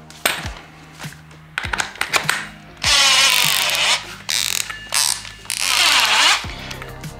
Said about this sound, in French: je visse la scie cloche, je relâche et là ça s'est bloqué. Donc là ça peut plus se dévisser. On prend la perceuse.